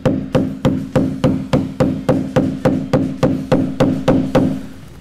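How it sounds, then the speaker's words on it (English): Hammer tapping a Torx bit onto a painted bolt on a Jeep Wrangler hinge, about fourteen sharp, evenly spaced knocks in a steady rhythm, close and loud, with no talking. "So you might need to tap them on with a hammer or just wiggle them in to get them in nice and tight."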